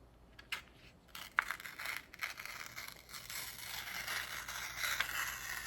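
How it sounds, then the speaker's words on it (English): Paper being torn along its grain in a straight line, a close, dry ripping that starts with a few sharp snaps and then runs as a longer steady tear, with no one talking. "First, we're going to practice tearing a straight line."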